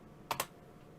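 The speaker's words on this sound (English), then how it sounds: "let's type in RD40 filter now." Two quick, crisp keystrokes on a computer keyboard while a search is typed, close and fairly quiet against a faint background.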